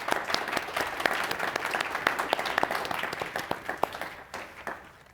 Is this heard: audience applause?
yes